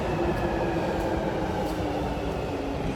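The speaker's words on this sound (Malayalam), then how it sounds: "ഞാൻ ട്രെയിൻ വരുന്നത് കാണിച്ചു തരാം. ട്രെയിനല്ല, ജൂബിലി ലൈൻ എന്ന് പറയും." A London Underground Jubilee line train pulls into a deep-level station with a steady, loud rumble and roar of rolling stock that fills the platform throughout, with no talk.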